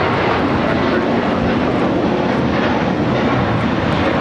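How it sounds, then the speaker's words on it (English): An American Airlines A321 takes off from LAX bound for JFK, its engines producing a loud, steady, broadband roar throughout. "This is American Airlines Flight 32 taking off to JFK on the A321."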